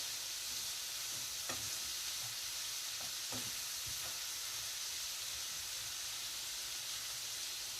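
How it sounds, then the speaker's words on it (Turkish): Liver stew with spices is stirred in a pot over steady sizzling and frying hiss, with a few soft scrapes of the utensil, quiet and continuous without speech. "Güzel bir karıştırıyoruz yemeğimizi."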